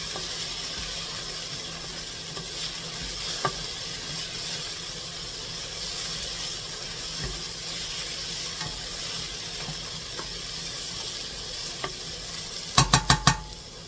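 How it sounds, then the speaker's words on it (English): Onions cooking down in a pan for a homemade pasta sauce: a soft, steady sizzle with occasional stirring knocks, ending in a quick run of sharp clatters against the pan. "I'm just letting those onions cook down for just a little bit"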